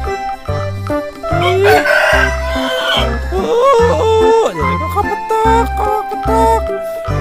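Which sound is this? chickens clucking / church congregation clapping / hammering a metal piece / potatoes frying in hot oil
chickens clucking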